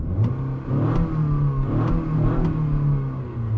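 A 2021 Acura RDX turbo engine revs up and holds a steady, smooth mid-range drone, heard from inside the car with no talking.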